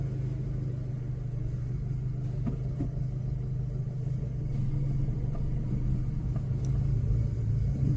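A car engine rumbles steadily at low volume inside the cabin during a driving lesson as the learner shifts into second gear, with a faint even drone and no speech.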